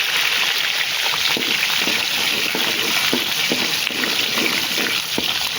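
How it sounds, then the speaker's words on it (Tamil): Steady, dense sizzling of shallots and garlic frying in hot oil, with occasional soft stirring clicks and scrapes, close and continuous with no talking. "வெங்காயம் பூண்டு நல்லா பொன்னிறமாக வதங்கினா தான் நல்லாயிருக்கும்"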